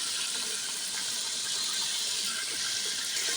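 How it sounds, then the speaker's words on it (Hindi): A steady, continuous hissing rush as water is poured into a hot pan of frying onions, heard close by. "अब इसके अंदर हम डालेंगे थोड़ा सा पानी"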